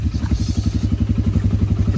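A quad bike engine idles close by at a tourist riding spot in Bali, a loud, steady, rapid low putter with faint clatter on top.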